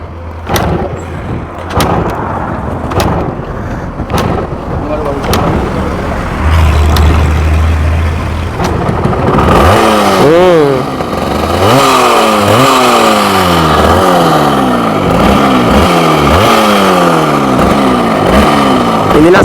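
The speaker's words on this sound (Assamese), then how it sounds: "ইঞ্জিনৰ চাউণ্ডটো শুনিছা নাই?" A Yamaha RX100 motorcycle with a seized engine is kicked over in sharp irregular thumps, then catches and runs loud and rough, its two-stroke note revving up and down in repeated ragged surges close by.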